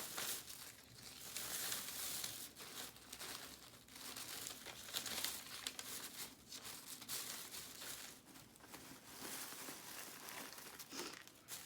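A plastic bag crinkling as an animal plays with it, a busy, continuous rustle with sharp crackles throughout, close and fairly quiet, with no talking.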